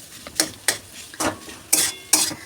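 Bursts of clattering and scraping as winter vegetables are stirred and tossed in a hot wok, with a faint sizzle underneath, about five sharp strokes in an uneven rhythm.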